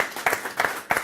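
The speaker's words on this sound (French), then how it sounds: "Ça s'applaudit, hein?" Applause from a small audience at a debate exchange, brief bursts of clapping swelling in three waves over a second, moderately near and fairly thin.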